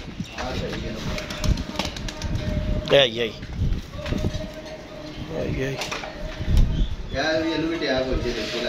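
Caged pigeons coo in soft repeated warbles close by, mixed with rustling, footsteps and people talking over them.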